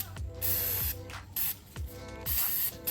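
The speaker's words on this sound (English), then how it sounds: "I like to spray a little bit of brake cleaner" Short bursts of brake cleaner hissing from an aerosol can onto a brush close by, several quick pulses in an uneven rhythm with brief pauses between.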